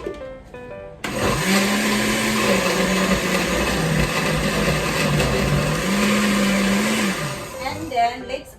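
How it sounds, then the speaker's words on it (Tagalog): A kitchen blender whirs loudly as it purees green tomatoes with a cup of water, starting abruptly after a second, holding a steady motor whine with slight pitch shifts, then cutting off near the end. "let's add some 1 cup of water, and then let's blend the green tomato"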